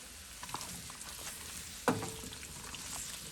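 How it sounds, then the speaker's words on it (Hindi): Round gourd (tinda) frying in hot oil over medium heat: a quiet, steady sizzle with a brief sharp splash-like burst partway through, then an even crackle. No voices. "अब हम इसको गरम ऑयल में फ्राई करेंगे।"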